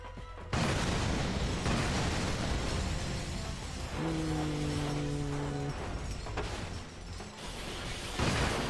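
Shooting and explosions from Ratchet & Clank Future: Tools of Destruction fill the scene, a dense, continuous barrage of blasts and mechanical clatter, with a short tonal hum partway through.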